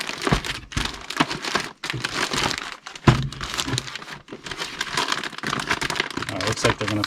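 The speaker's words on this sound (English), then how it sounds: "So I'm gonna see if these will fit in just a regular envelope." Stiff paper crinkles and rustles as items are pushed into a regular paper envelope, with busy broadband crackling throughout and brief pauses, close by; a voice is faintly present.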